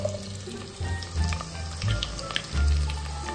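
Onions sizzle and fry in a pan with cloves and cardamom, a close, steady crackle with bursts of louder spitting and stirring.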